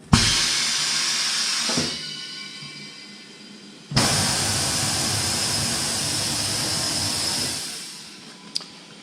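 Home tire changer with its turntable spinning in reverse, a steady whirring motor drone that runs for a couple of seconds, pauses, then runs again for several seconds, close and fairly loud with no talk.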